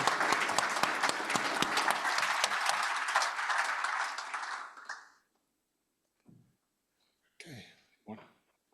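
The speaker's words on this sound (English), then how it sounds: "I'd like you all to give her a hand of applause as our newest director" Applause from an audience at a BirdLife South Africa annual general meeting for a newly named board director, steady clapping for several seconds that fades out, followed by quiet and a few brief voices.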